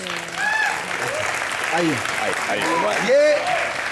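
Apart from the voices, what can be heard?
studio audience applause for Jasmine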